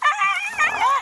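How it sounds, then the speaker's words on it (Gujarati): A dog caught in a buffalo's horns lets out a short, loud, close whimpering yelp lasting about a second. "ઓને કૂતરું હલવાડ્યું શીંગડામાં"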